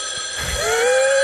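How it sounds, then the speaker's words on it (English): A telephone ringing in a phone booth during a film scene, a bright electronic-sounding ring with layered tones that holds steady and loud over a low rumble, no voices. "Phone booth ringing."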